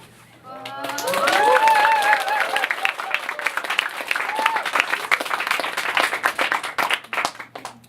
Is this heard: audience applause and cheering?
yes